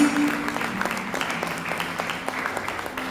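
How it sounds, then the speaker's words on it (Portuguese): Church congregation claps for a few seconds, a moderate and fairly even patter of applause with some faint voices underneath. "Dê a sua melhor salva de palmas para Jesus, amém?"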